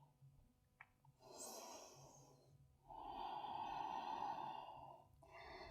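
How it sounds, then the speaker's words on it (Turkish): A deep inhale followed by a slow, calm exhale during a yoga flow, two soft broadband breaths close to the mic, the second longer and louder, with no talk. "Derin bir nefes al. Sakince ver."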